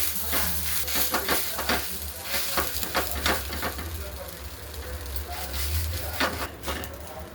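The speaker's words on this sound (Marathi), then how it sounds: "आता आपण हे थालीपीठ तव्यावरच थापून घेणार आहोत" Poha thalipeeth is patted out on a hot griddle, producing continuous sizzling with rhythmic soft pats and taps as the dough is pressed flat.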